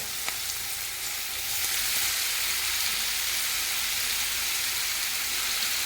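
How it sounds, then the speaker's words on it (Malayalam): Chicken pieces fry in hot oil in a pan for a homemade pizza topping, a dense steady sizzle that swells after the first second and holds on, close and even, with no voice. "ഓയിൽ നല്ലപോലെ ചൂടായി വരുമ്പോൾ ചിക്കൻ ഇതിലേക്ക് ഇട്ടിട്ട് വേവിച്ചിട്ടെടുക്കും"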